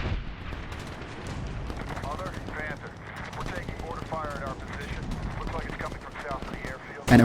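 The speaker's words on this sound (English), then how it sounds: "a turret section, with a PKM whose hipfire spray is more accurate than aiming down the sights" Sustained rapid bursts of PKM machine gun fire from a turret in Medal of Honor (2010), dense and continuous for several seconds with explosive thuds mixed in, ending in a louder hit.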